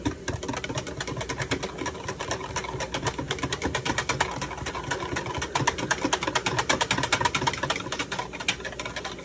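A wire whisk beats gravy in a pan for a Salisbury steak meal, a fast steady clatter of rapid strokes that runs continuously at close range.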